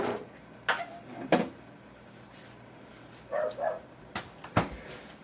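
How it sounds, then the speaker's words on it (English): Dogs outside let out a few sharp, short barks spaced irregularly, somewhat distant and moderately loud against a quiet background. "Dogs outside barking, of course."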